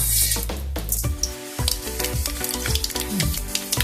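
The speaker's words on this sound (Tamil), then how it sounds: "நல்லெண்ணெய் நல்லா காஞ்சதும் நம்ம எடுத்து வச்சிருக்க வெந்தயம், கடுகு சேர்த்துக்கலாம்." Fenugreek and mustard seeds sizzle in hot sesame oil for a tamarind curry, a loud close crackle with rapid popping bursts and spatter throughout, no voices.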